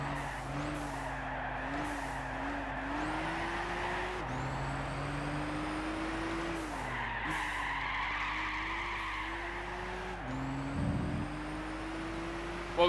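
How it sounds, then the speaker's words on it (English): Engine drone and repeated tire squeals from a car drifting through corners in the racing game Gran Turismo 6, steady throughout with rising and falling pitch as the car slides, no talking. "drifting like that was perfect."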